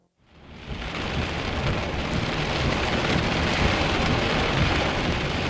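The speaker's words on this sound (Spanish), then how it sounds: "Probablemente fue después de medianoche cuando comenzó la tormenta." A violent thunderstorm with heavy, steady rain pouring down and deep thunder rumbling beneath it, swelling in quickly from silence and holding loud and dense throughout, with no voices.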